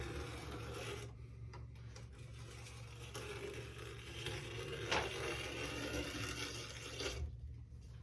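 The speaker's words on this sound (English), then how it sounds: "we're going to start with the groove scraper. This is just going to go down the middle in the groove of your ski" A groove scraper drawn down the groove of a waxed Nordic ski gives soft, close rasping strokes over a low steady hum, with brief pauses between passes.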